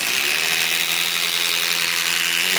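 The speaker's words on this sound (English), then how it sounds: "Let's try the DEWALT DCF845 with a flex battery." A DeWalt DCF845 impact driver runs on a Flex battery, a loud, steady, high-pitched motor whine with a rapid hammering buzz held for a few seconds, close up.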